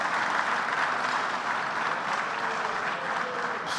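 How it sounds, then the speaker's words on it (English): Dinner banquet crowd applauding honoree Tom Gesualdi at the BTEA Dinner 2018, a dense, even roar of many hands clapping at steady volume throughout. "Let's give Tommy a round of applause right up front."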